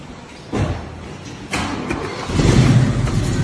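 A classic Ford Mustang Mach 1 fastback engine cranks and catches with a sharp burst, then settles into a loud, rough idle that swells higher near the end, close to the microphone.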